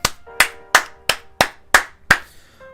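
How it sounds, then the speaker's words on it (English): One person claps seven times in a slow, even rhythm, close and crisp, celebrating Nate during a Pokemon TCG Pocket stream, with no talking. "Round of applause for Nate,"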